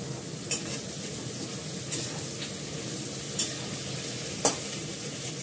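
Two bay leaves dropped into hot oil with onion and ginger paste while cooking meat curry: a steady, even sizzle of frying fills the clip, with four brief clinks of a utensil against the pan spaced a second or so apart.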